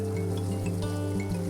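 Rainforest waterfall water splashing over freshly dug ginger in Tahiti, a continuous close rushing and trickling of water with a steady low hum beneath, no talk.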